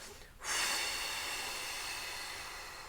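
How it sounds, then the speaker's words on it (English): A long, steady breath out during a singing warm-up, a close, airy hiss that starts abruptly and holds evenly for over two seconds, slowly fading. "I'm going to breathe out, pushing towards me today"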